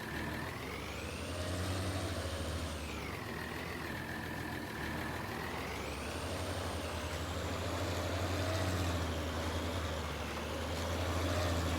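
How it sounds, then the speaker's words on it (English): A steady tractor engine idle in Farming Simulator 19 rumbles throughout, low and continuous, with faint whining tones rising and falling above it and no talking. "I do like the engine sound on the tractor."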